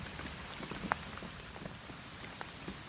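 Heavy rain falls steadily on a small pond, making a dense hiss close by, with scattered sharper drops pattering throughout.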